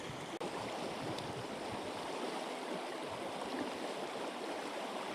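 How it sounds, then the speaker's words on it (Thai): Strong rushing water pours down an irrigation canal after a heavy water release at a fishing spot, a steady, loud, broadband roar that runs unbroken throughout. "เนี่ยปล่อยอย่างนี้เลยเต็ม น้ำแรงเลยนะครับ"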